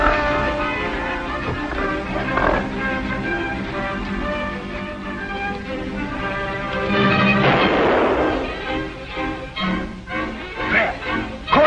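Gunfire bursts out in a 1953 jungle adventure film, with booming shots mixed into a dramatic music score and shouting voices. The sound is dense and fairly loud, swelling around the middle of the scene.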